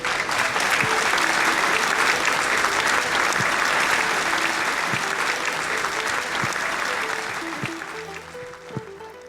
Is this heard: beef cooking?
no